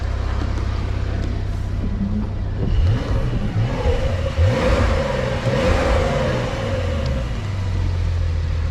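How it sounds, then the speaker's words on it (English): Porsche 992 4S on its stock exhaust blipped into a quick rev from idle, the close engine note rising sharply, peaking, then settling back to a steady low idle. "Right now I'll give you a quick rev."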